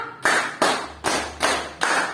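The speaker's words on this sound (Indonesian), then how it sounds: "tepuk satu, tepuk dua, tepuk tiga, tepuk empat, tepuk lima" Five sharp, evenly spaced claps from a group clapping in unison during a classroom energizer, each crisp burst ringing briefly before the next, steady and fairly loud with no talking.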